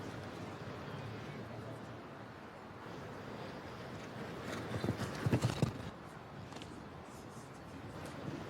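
Horse hooves at an outdoor show jumping Nations Cup event in St. Gallen, Switzerland, a cluster of thudding strikes about midway through, fairly distant under steady wind and crowd ambience.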